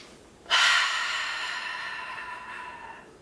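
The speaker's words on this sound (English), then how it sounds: "we're still breathing through our nose and out our mouth" A single breath is drawn in through the nose and then released out the mouth during a calm relaxation exercise, a soft sniffing intake followed by a long, fading airy exhale, close and quiet.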